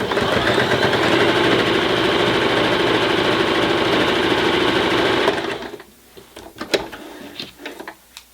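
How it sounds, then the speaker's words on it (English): Sewing machine running steadily with a standard presser foot as it stitches through six layers, four of fabric and two of batting, a loud continuous whir for about five seconds that then stops, leaving only faint clicks. "you can now see how nicely it's going to stitch through 4 layers of fabric and 2 layers of batting"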